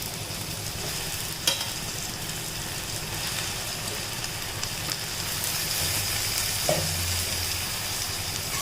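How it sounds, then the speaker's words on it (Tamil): Quail meat sautéing in a pan for a quail gravy, heard as a dense, even sizzle that runs throughout with a couple of soft knocks from the pan. "காடையை ஆட் பண்ணிக்கலாம்."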